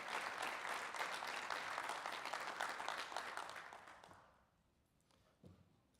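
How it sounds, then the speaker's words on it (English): A conference audience applauds newly named trustees at an annual business meeting, a dense, steady wash of clapping that fades out after about four seconds, followed by near silence and one faint knock. "Big round of applause for those"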